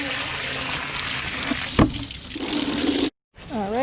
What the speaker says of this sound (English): I did remember I gotta fill up the dog's water over here.